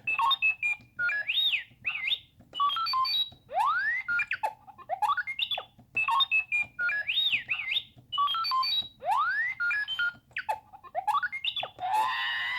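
A 1/6-scale R2-D2 toy robot's scream effect: a rapid, continuous string of electronic chirps, warbles and rising whistles, repeating in a frantic pattern and ending with a harsh burst.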